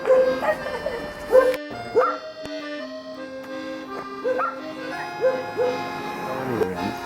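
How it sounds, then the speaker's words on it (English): Dogs bark and yip in short bursts on the streets of Almaty, Kazakhstan, with higher whiny notes mixed in, fairly close and loud against a quiet background. "Yeah, dogs are everywhere."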